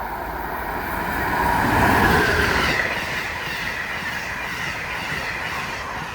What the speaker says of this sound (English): And here is the Amtrak Carolinian northbound.